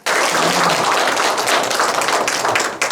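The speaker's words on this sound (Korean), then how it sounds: "다시 한번 큰 박수 부탁드립니다" A seated audience at a political discussion forum in Seoul claps loudly and steadily, a dense, close burst of applause that starts abruptly and carries on until it cuts off near the end.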